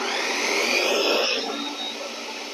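A kitchen blender whirs loudly as it mixes a yogurt sauce with tahini paste, the motor roaring steadily before easing to a lower, quieter spin.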